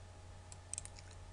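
A computer mouse clicks in a quiet room during Flash game editing, a few light, quick clicks close to the microphone over a faint low hum.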